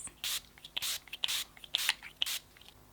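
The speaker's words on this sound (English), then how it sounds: "set everything down using my Urban Decay and Mecca All Nighter Setting Spray" Urban Decay and Mecca All Nighter setting spray misted onto a made-up face, a run of about seven short, sharp hissing pumps at close range, spaced irregularly in a quiet room.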